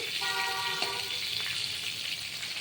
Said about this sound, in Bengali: এই দেখুন এই সবজিটা ভাজা ভাজা হয়ে এসছে